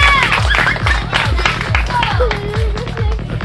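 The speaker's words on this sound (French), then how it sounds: "On applaudit très fort." An audience at a magic show claps loudly in a steady, brisk rhythm, a continuous burst of applause filling the room.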